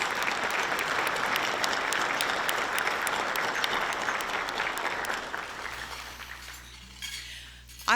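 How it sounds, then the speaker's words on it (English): Audience applause for local elected officials at a state of the city event, a sustained wash of many hands clapping that tapers off toward the end, with faint clinks of glassware and dishes. "if you can please give our local elected officials a round of applause"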